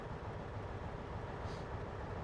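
A class 218 diesel locomotive in red and beige livery running in Trainz Simulator 2, a steady, quiet low engine drone with rolling rumble throughout, no voices.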